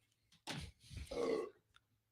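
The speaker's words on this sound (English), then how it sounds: "That was a huge burp." A loud, drawn-out human burp lasting about a second, close to the microphone, with a short breathy lead-in and quiet surroundings.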